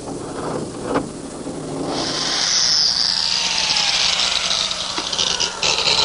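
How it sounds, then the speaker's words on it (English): A power drill whines steadily and rises in pitch as it bores cross-dowel holes into wood for a trundle bed, loud and close, with brief clatter beforehand. "drilling the holes for the cross dowel of that connector."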